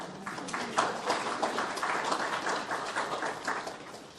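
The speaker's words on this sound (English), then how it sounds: "I think that deserves a round of applause." Sustained audience applause fills a funeral service, many hands clapping steadily and fairly close for several seconds without a break.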